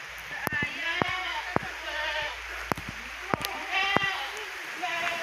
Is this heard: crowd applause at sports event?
no